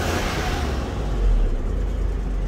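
A Range Rover P38 with a 4.6 V8 petrol engine on LPG gives a brief rev while idling: a loud, steady low rumble that swells slightly midway and settles again, heard from close by with no talking.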